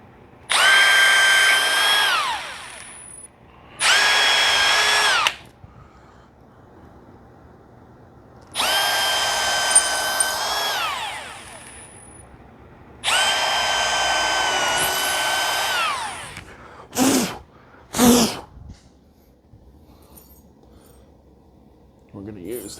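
A power drill enlarges holes for a DIY cordless vacuum stand, running in four long whining bursts with pitch rising as it spins up, separated by quiet gaps, followed by two short blips.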